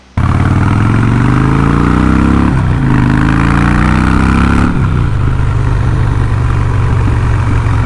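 A 2007 Harley-Davidson Night Train motorcycle engine fires up and runs loud and close, with a deep rumbling idle that revs and shifts pitch before settling into a steady low throb.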